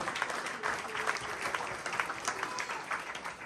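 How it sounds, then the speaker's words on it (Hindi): A church congregation applauds during a Christian sermon, sustained clapping from many hands with a rippling texture, moderately distant and steady for a few seconds. "उस औरत के लिए जोरदार तालियां बजाइए।"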